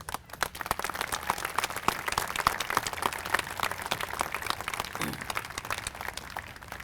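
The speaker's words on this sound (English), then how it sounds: "So I would like to give everybody just a round of applause for all their service." Audience at a Mansfield, Massachusetts Veterans Day ceremony breaks into sustained applause for veterans' service, dense clapping holding steady for about seven seconds with no talk over it.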